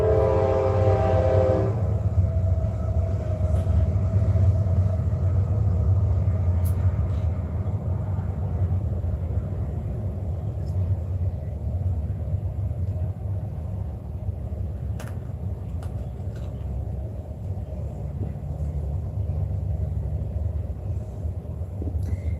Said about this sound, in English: Oh, the train. Hang on.